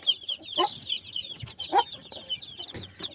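A hen clucks in short, low bursts close by, while a steady stream of high, thin peeping from her newly hatched chicks continues throughout.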